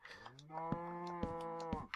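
A cow mooing in the video game Snake's World, a single drawn-out low moo with a steady pitch lasting over a second, close and clear after a few soft clicks.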